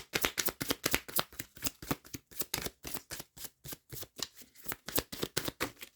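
Tarot cards are shuffled in quick, close, rhythmic riffling bursts that repeat steadily throughout.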